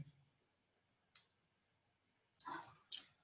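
Computer mouse clicks, a single faint click followed by a quick pair of sharper clicks, close and quiet.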